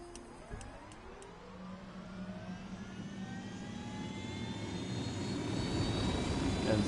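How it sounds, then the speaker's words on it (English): A helicopter in Ghost Recon Wildlands gives a steady, building roar of engine and rotor noise that swells louder over several seconds. A few brief clicks come at the start, with no speech. "we'll go ahead and hop in this chopper"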